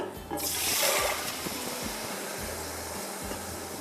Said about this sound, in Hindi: इसके अंदर पहले हम डालेंगे ये भीगे हुए चावल